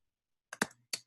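Three quick close key clicks on a computer keyboard, two in fast succession and a third just after, in an otherwise silent moment.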